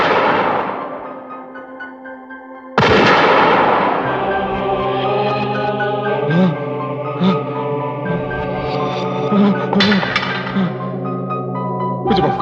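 Gunfire rings out during a tense night confrontation in a horror film, a loud sharp blast that decays into lingering echoes, then further reports layered over droning, ominous music.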